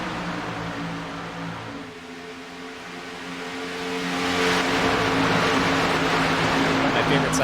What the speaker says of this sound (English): seeing all those cars race by at the exact same time